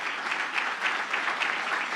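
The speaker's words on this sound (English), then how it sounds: "it's a lot of claps" Dense, steady applause from a large audience at an awards ceremony finale, many hands clapping evenly with slight swells and no voices on top.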